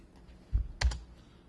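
Computer keyboard keys tapped a few times in quick succession, backspacing to delete text in a Word document; short, soft clicks with a louder pair near the middle against a quiet room.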